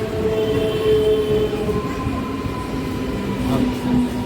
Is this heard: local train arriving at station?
yes